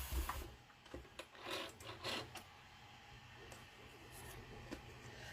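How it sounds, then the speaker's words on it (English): Sewing machine stitching a straight seam to attach a small pocket onto a mini fabric book, a quiet mechanical whir with rapid ticking that runs steadily, then settles into a softer hum. "I'm going to sew in a straight line all the way down there."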